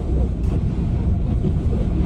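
Strong wind in Finland roars steadily against the microphone, a dense, loud buffeting rush with no pause, heard alone.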